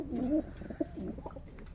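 Pigeons cooing inside their loft, a close, low, throaty coo repeated in short rolling phrases with a few soft bursts between, no talk over them.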